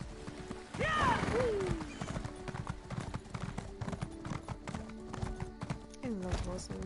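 Hooves clip-clop in a steady rhythm as horses move through The Elder Scrolls Online, with a whinny near the start and game ambience and voices underneath.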